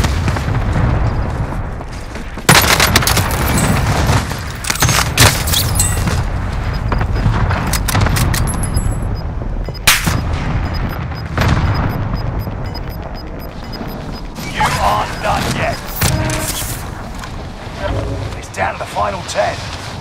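Explosions from an enemy cluster strike crash repeatedly amid steady gunfire in the battle royale game Warzone, a loud, dense barrage of booms and shots that continues throughout, with a voice talking over the din.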